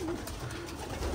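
Domestic pigeons coo from a rooftop loft with many newly hatched squabs, a soft, steady murmur of low calls running through the short stretch with no voices.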